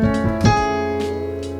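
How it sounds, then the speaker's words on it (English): Piano set to a bright, cold timbre emphasizing higher tones: a few quick struck notes and a chord that rings and sustains, clear and close, decaying slowly with no voices. "the best kind of sound for cold is this piano, where the timbre is set to have more higher tones"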